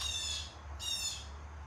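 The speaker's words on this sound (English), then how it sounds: "The bird is very loud." A loud bird calls in the morning, two harsh squawks close by with a short gap between them, over a low steady background hum.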